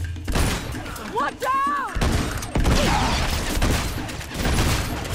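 Shotgun fire in Uncharted 2 lands as a few heavy, booming blasts amid rapid gunfire and mechanical clatter, loud and close, with a voice calling out over the action.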